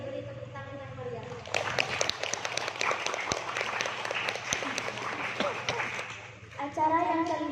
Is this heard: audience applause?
yes